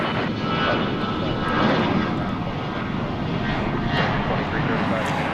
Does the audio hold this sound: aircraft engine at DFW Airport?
yes